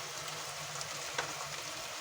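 Turmeric sautéing in hot oil in a pan, a faint, steady low sizzle with one brief scrape of the spoon, close but quiet.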